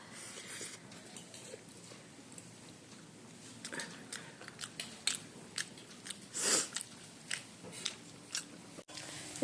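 Fried onion fritters being eaten at home, with a series of crisp bites and crunchy chewing up close, one loud crunch near the middle, and no talking.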